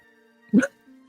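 A single short, sharp sneeze bursts out over a faint steady background hum.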